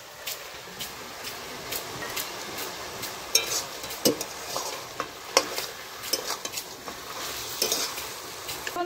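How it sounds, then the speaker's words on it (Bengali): Fish heads fry with ginger paste and cumin paste in a pan, giving a steady soft sizzle broken by sharp scrapes and clinks of stirring at an irregular pace, close and moderately loud. "দিয়ে দিচ্ছি আদা বাটা আর জিরে বাটা, দিয়ে দিচ্ছি মাছের মাথাগুলো"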